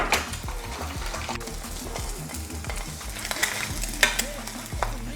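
Eggs sizzle in a pan with the heat just turned off, a lively crackling hiss broken by a few sharp utensil clinks, near and fairly quiet.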